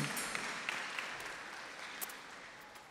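Small audience giving a round of applause at a Christmas program, soft clapping that fades out over a few seconds with occasional distinct claps.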